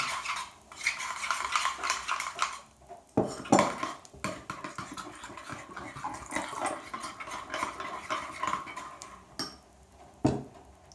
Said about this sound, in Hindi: अच्छी तरह दही को फेंट लें।